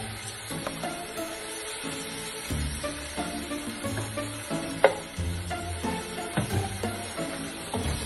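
Biryani masala cooking in oil for a seeraga samba tiger prawn dum biryani, with a continuous close sizzle and repeated stirring scrapes, one sharper knock partway through and no talking.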